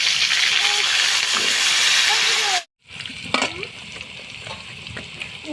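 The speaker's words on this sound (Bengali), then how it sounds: "আলুগুলোকে ভেজে নিচ্ছি।" Potato pieces fry in hot oil with a loud, crackling sizzle that cuts out for a moment, then returns softer with scraping stir strokes and occasional pops.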